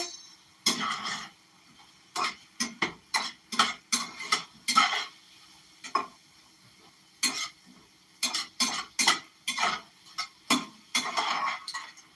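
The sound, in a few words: stirring ingredients with adobo in a pot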